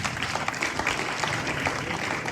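A crowd at a football match for players with disabilities in Burundi claps steadily. The applause is dense and continuous, fairly loud, and fills the whole short stretch.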